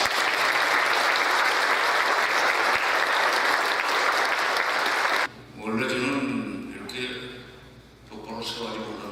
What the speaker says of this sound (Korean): 우리 큰 박수로 환영하겠습니다